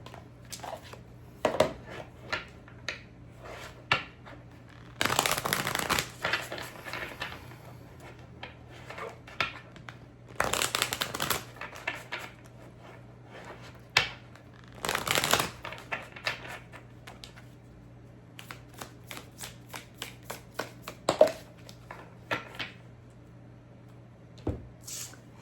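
Tarot cards being shuffled and pulled: repeated crisp riffles and bursts of card flutter at intervals, with scattered light taps and slides between them over a faint steady hum.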